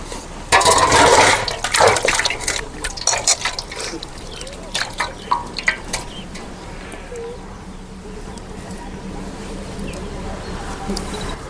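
Water poured and splashed over hands during washing in a home kitchen, with bursts of pouring and dripping early on that fade to quieter trickles, a voice speaking at times.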